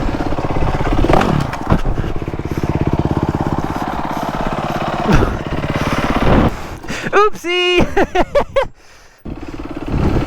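A BMW GS1200 motorcycle off-road on a hill climb, the engine idling and revving in uneven bursts with scraping and clatter after a slow crash, while a rider talks over it.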